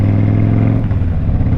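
Harley-Davidson Crossbones motorcycle heard while riding, a steady loud low engine drone with constant rumble throughout, close and continuous with no talk.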